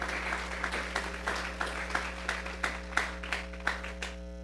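A church congregation claps in a steady, even rhythm, with a brisk beat of moderately distant claps over a constant low electrical hum.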